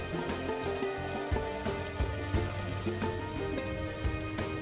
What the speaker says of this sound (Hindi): देखते ही देखते भयंकर बारिश शुरू हो जाती है।